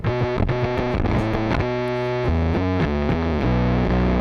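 An electric bass played through a Darkglass Aggressively Distorting Advanced Machine distortion pedal on its second mode gives heavily distorted, midrange-forward notes, loud and close, played as a short sequence of picked phrases with no talking.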